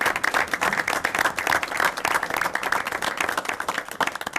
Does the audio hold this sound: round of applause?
yes